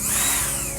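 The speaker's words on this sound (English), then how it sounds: "feather the drill just fine how I want it" A Festool CXS compact cordless drill runs steadily and close by for a brief moment, a continuous high motor whine with no voices.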